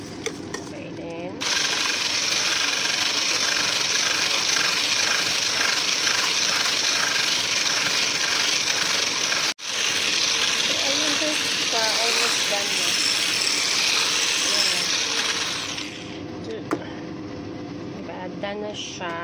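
An electric mixer whisks egg whites and sugar for a basic chiffon cake, running as a steady, loud mechanical whir for about fifteen seconds with a brief cut near the middle, then stopping.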